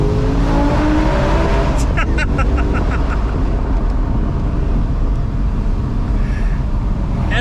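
A BMW E60 M5 accelerates while driving. The engine note climbs sharply in the opening seconds, then settles into a loud, dense roar mixed with road and wind noise from inside the car.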